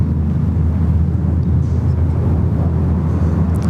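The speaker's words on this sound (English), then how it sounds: "we're finishing off strong with a QJet 717" A QantasLink Boeing 717 jet at Sydney Airport, a steady, loud, broad jet roar holding close throughout with wind buffeting the microphone, no talk.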